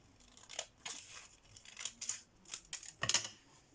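Scissors cut through foam board in a series of short, close snips, about eight crisp cuts spaced irregularly over a few seconds, with no talking.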